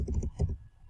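A quick burst of computer keyboard typing, several close, crisp key clicks in rapid succession, then fading out.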